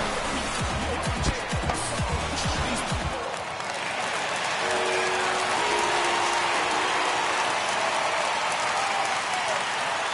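Simulated baseball stadium crowd from MLB The Show 21, Tigers at Oakland Athletics, a broad steady roar of cheering with a burst of rhythmic clapping early on, then a sustained crowd swell.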